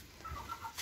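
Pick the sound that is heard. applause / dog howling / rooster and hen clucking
rooster and hen clucking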